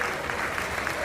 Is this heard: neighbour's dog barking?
no